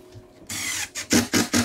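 A power drill drives screws into clamped wooden chair boards. A short whir is followed by several quick bursts of motor noise, loud and close, with no talking.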